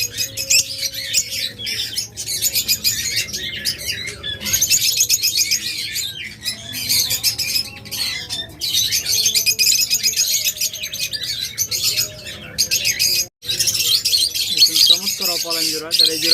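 Caged pet lovebirds and budgerigars at a bird sale chirp and squawk in a dense, overlapping chorus that stays loud and steady throughout, with no clear break between calls.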